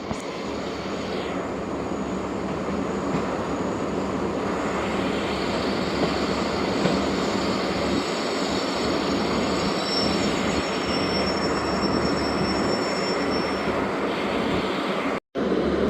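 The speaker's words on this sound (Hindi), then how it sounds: "8:13 पर दोस्तों ट्रेन पहुंची है हमारी भावलपुर रेलवे स्टेशन।" The Karachi Express at Bahawalpur railway station gives a steady, loud rumble of rolling wagons with high wheel squeal drifting in and out, continuous and close for the whole stretch.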